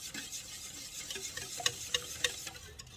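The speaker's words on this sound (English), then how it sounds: "Make sure I scrape all the hot cocoa, all the chocolate off as much as I can." A spoon scrapes hot cocoa and melted chocolate off a pan, making quiet rasping strokes and a few sharp ticks against the metal, close by and with no speech.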